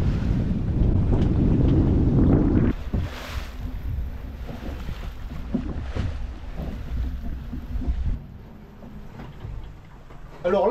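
Wind blows across a sailing boat under way, a steady rushing roar that is loudest at first, then eases and gusts again, with a voice talking over it.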